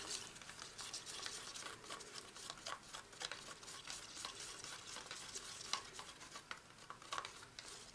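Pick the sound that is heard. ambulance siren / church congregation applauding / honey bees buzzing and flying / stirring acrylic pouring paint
stirring acrylic pouring paint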